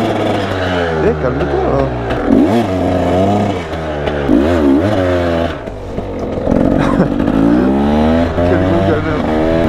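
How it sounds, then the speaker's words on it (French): A cold enduro motorcycle engine is revved repeatedly to warm it up, its pitch rising and falling in loud, close sweeps, while someone talks over it. "Et ben on va se taper un petit délire pour chauffer la moto."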